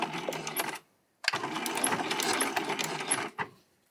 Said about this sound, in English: I'm going to get this part of the ring under the presser foot, and I'm going to do a back stitch